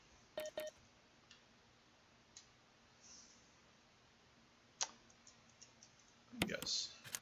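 Code entered on a keypad in the Resident Evil video game, a few short tonal beeps and clicks spaced apart, followed by a louder chime-like confirmation tone near the end.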